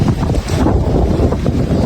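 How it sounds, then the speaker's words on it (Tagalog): Strong wind from a passing storm buffets the microphone in a steady, loud rush of low roaring noise, outside a house in Antipolo. "Ayan, ang lakas ng hangin."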